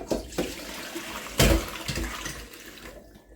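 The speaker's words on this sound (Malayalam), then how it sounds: "അപ്പോൾ ഇതാ വെള്ളമൊക്കെ നല്ലതുപോലെ തണുത്ത് വന്നിട്ടുണ്ട് കേട്ടോ അപ്പോൾ അത് നമുക്ക് അതൊന്ന് ഊറ്റിക്കളയാം" Cooled water is drained out of a scorched cooking pot, splashing and pouring in uneven bursts with one louder gush partway through before tapering off, heard up close with no talking.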